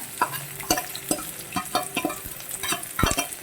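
Garlic and green chili fry in a pan for a veg pasta, a steady sizzle broken by repeated sharp scrapes and knocks of a spatula being stirred, close and fairly loud.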